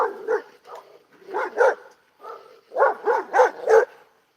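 A dog barks repeatedly and close, in two clusters of sharp woofs separated by a short pause, with no talk over them.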